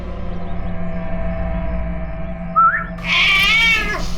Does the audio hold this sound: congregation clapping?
no